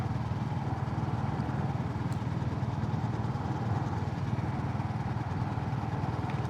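A Honda CB350RS motorcycle engine runs with a steady low rumbling thrum throughout, close and continuous, with wind noise over it and no talk.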